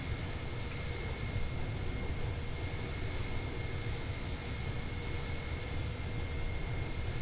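Airbus A310 jet engines held at maximum continuous thrust in Microsoft Flight Simulator, a steady loud roaring drone with a constant high whine, unbroken throughout.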